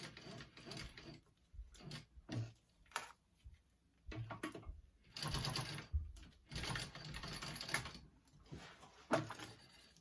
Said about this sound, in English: sew up and around just like we did on our connectors real quick